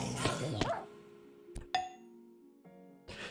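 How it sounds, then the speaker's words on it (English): A dog gives a few sharp, separate barks, the first loud and rough, the later ones shorter, with a light clink between them and quiet room tone, at the start of a casual podcast. "Dog."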